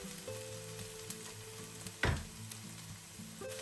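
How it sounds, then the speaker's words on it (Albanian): Chopped onion fries in about 80 ml of oil in a pan over medium heat, a steady soft sizzle with a brief louder clatter partway through as it is stirred. "do të hedhim rreth 80 ml vaj dhe do të skuqim qepën"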